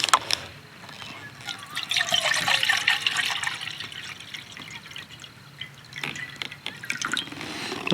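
Water trickling and splashing steadily into a small camping pot at a motorcycle campsite, a close, continuous pour with fine dripping detail, no talking.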